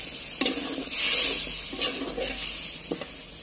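New potatoes fry in a pan of hot oil, a bright continuous sizzle with several scraping, clattering stirs spaced through it.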